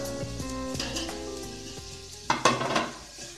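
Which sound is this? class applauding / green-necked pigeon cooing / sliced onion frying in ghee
sliced onion frying in ghee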